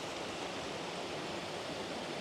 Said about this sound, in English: we have another waterfall, the final waterfall in the glen.